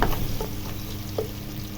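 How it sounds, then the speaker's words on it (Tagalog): Young ginger and garlic frying in a pan, a close, continuous sizzle with a few soft stirring scrapes and no talking. "Bigyan natin ng chance na medyo maluto-luto yung ginger para talagang mabango."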